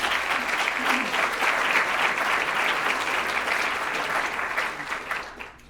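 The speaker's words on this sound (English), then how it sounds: "can we give these folks a round of applause?" Guests at a strategy-planning kickoff luncheon give the sponsors a round of applause, steady crowd clapping that stays full and even before fading slightly at the end.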